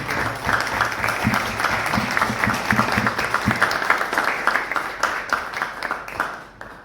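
Applause for a doctor at a Malvinas army event: sustained clapping from a sizable audience, dense and steady, tapering off toward the end.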